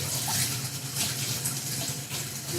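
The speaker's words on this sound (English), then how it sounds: "just nice cold running water" Cold tap water runs over soft vegetables being washed, a steady close rushing hiss that stays loud and even throughout.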